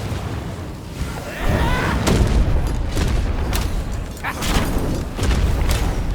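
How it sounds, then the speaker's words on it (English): Sticky bombs explode repeatedly in the vampire survival game V Rising, a run of dull booms and thuds spaced a second or so apart over a noisy, rumbling game mix. "he really spams the sticky bomb now"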